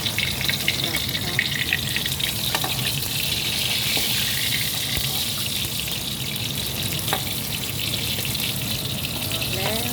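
Short mackerel frying in hot oil in a pan, a steady close sizzle and crackle that runs unbroken for the whole stretch, with faint clinks now and then.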